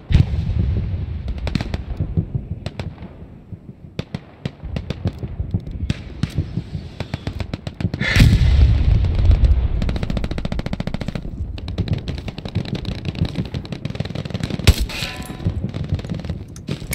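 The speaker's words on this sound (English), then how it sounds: "Careful with that artillery." Artillery fire and rapid gunfire in a video game rattle in dense, sharp bursts. A heavy booming impact lands midway, then continued volleys of shots follow, loud and close.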